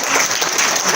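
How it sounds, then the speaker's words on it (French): A festival audience claps for a professor and poet at a literary opening ceremony in Dakar, a dense, loud wash of applause filling the whole moment without a break. "vous l'applaudissez s'il vous plaît"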